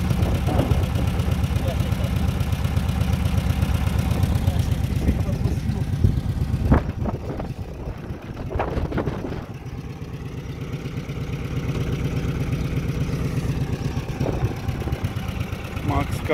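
An old ZAZ Zaporozhets humpback with a smoking engine idling with a rough, uneven mechanical chug, briefly stumbling midway before settling back into a steady idle, while people talk nearby.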